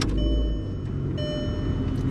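A VW GTI MK4 with its timing belt replaced around 184,000 miles turns over and settles into a steady, close engine rumble with a faint whine, continuing without pause and no talk.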